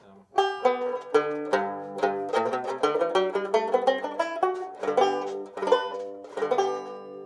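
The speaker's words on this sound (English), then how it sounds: "That's what you're hearing is the tenor banjo" A 1920s tenor banjo, the Irish-music instrument, plays a solo run of bright, rapidly plucked notes, close and clear throughout with no voices over it.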